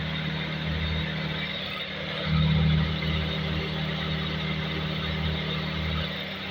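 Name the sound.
Toyota Altezza engine idling with a misfire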